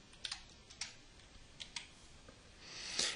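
Quiet typing on a computer keyboard, a handful of soft close key clicks in an irregular rhythm, with a faint rustle rising at the end.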